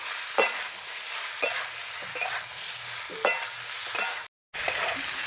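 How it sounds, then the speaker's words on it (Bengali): Potatoes and ridge gourd with spices sautéing in a pan give a steady sizzle, broken by a few sharp scrapes and knocks of a stirring spoon at irregular intervals and one brief dropout, with no talk. "আলুর সঙ্গে মশলার সঙ্গে ভালো করে কষাতে থাকবে"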